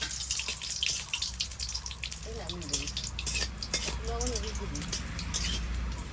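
Dried red chillies fry in oil with a steady close hiss and light crackling, while a few brief tonal sounds rise faintly in the background.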